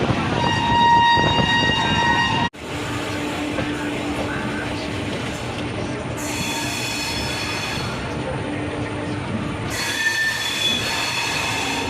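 The Cholan Express superfast passenger train runs past, loud and close, with steady rumbling wheels and high squealing, and a horn-like tone sounding over a sudden shift in the rolling noise.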